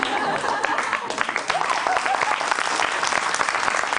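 Studio audience at a Georgian late-night talk show breaks into sustained applause, many hands clapping loudly and evenly, with faint crowd murmur mixed in.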